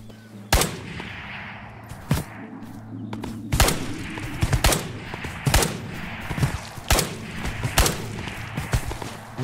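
Gunfire in the VR shooter Ghosts of Tabor: a string of sharp, loud shots at irregular intervals, some in quick pairs, over a low steady hum of game ambience.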